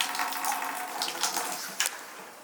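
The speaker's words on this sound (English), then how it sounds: "I just release the water there and add more to it." Water is released from an ice-cooled container in a Canadian outdoor setting, running and splashing steadily at close range with a few brief gurgles.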